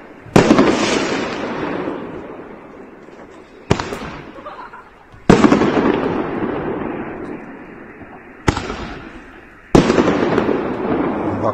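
Festive fireworks shot from a tank built of snow go off in five loud launches, each a sharp crack followed by a long fading crackle, spaced a couple of seconds apart outdoors.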